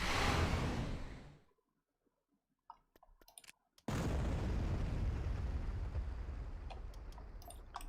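A hypervelocity gun fires in a Clone Wars versus Post-Endor Star Wars strategy game: a loud roaring blast cuts to near silence with scattered clicks, then a heavy sustained rumble returns and holds.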